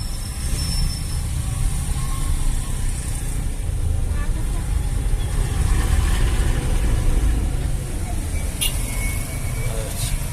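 Heavy road traffic in Uganda, a steady close rumble of car and truck engines idling and moving in congestion, with a constant broadband roar and occasional higher mechanical whines.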